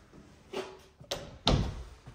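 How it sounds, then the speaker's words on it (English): A toilet door in a new San Antonio home is moved: a few wooden knocks and thuds close by, with one heavier closing thump near the end, in a quiet room. "its own door for the toilet"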